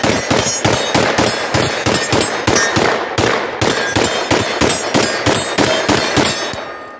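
A Turkish MKE AP5, an MP5 clone, fires a long, rapid string of sharp, loud shots at an outdoor range. About twenty reports come in quick, fairly regular succession with ringing metallic echoes and no talking.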